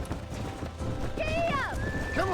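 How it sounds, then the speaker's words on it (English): Horses in Red Dead Redemption with hooves clip-clopping under a steady run, then several rising and falling whinnies close by, mixed with game ambience and a voice. "There's the horses!"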